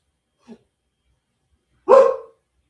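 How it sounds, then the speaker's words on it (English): A single dog bark sounds once, clear and fairly close, after a very faint brief yip from the same dog near the start, with quiet around it. "do you hear my dog barking?"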